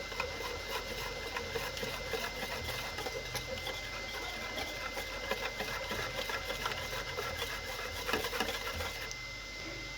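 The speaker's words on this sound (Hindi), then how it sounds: "इसको अब हम अच्छे से मिक्स करेंगे" Strawberry milkshake mixing in a kitchen gives a faint, continuous rapid whirring and pattering that goes on for the full ten seconds. It is heard on its own, with no one talking.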